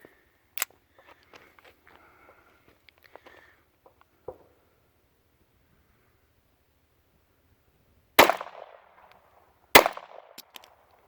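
Two sharp metallic clacks land close together near the end as the magazine drops out of a GSG 1911 .22 pistol, after faint handling clicks and a stretch of near silence.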